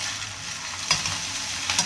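Flattened rice (avalakki) being stirred with grated coconut and chopped coriander in a pan, a soft steady sizzle with two sharper scraping strokes of the spoon, close up and without voices.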